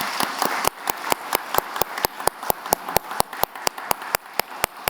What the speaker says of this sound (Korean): 우리 축하의 박수 하도록 하겠습니다.